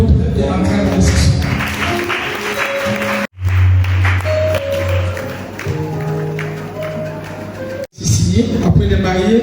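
A wedding congregation applauds the couple during a nuptial blessing, steady clapping running under a speaking voice, with two brief cuts and a low sustained tone in the middle section.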